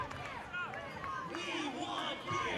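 Dense crowd noise at an Oakland Ballers versus Yuba Sutter Freebirds baseball game: steady babble, shouts and scattered cheers from a large crowd fill the whole stretch at even loudness, with voices overlapping throughout.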